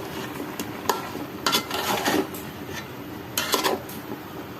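Bottle gourd with shrimp gets stirred in a pot with a metal spoon, giving a few clustered clinks and scraping knocks against the pot separated by quieter pauses, close and alone.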